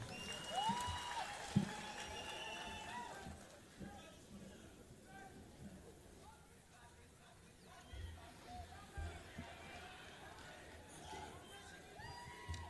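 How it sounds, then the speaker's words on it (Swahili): A crowd at the Eldoret city celebration claps and murmurs, the applause swelling and fading with chatter and a voice over an amplified sound system throughout. "Tumpigie makofi tafadhali."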